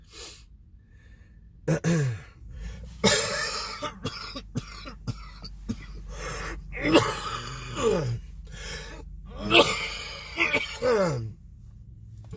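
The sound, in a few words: coughing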